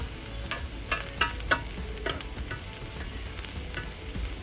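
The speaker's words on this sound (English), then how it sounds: "we do want to cook this up on high because the cauliflower needs to cook up really well" Keto cauliflower rice frying on high heat in a pan, a steady crackling sizzle with a run of light taps and scrapes from stirring, moderately close and without talk.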